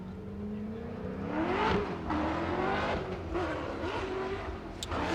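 A BMW drift car on Achilles tires runs a Formula Drift Pro 2 qualifying lap in St Louis, its engine revving hard and wavering continuously with squealing tires, loud and close throughout, with no talking.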